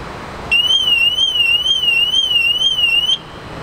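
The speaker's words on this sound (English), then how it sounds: "So that's the alarm" BMW M240i car alarm set to the US setting, a loud electronic siren warbling rapidly up and down in a steady cycle for about three seconds, close and alone.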